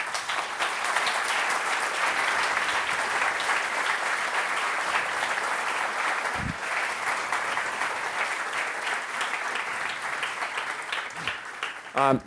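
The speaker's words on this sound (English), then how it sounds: "I will please ask you a big round of applause to them" Sustained applause from a large crowd at a conference opening, steady dense clapping lasting many seconds with a few louder thumps, tapering off at the end.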